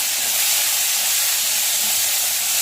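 Onion, tomato and garlic sauté together in a pan, throwing off a loud, dense, unbroken hiss close by, with no voices over it.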